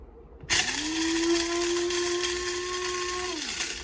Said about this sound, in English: We have pepper ready to grind in my grinder.